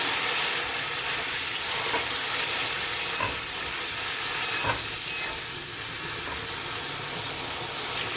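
Pea and potato curry being stirred in a hot wok, a steady close sizzle with soft scraping strokes of the spoon running throughout, fairly loud with no voices.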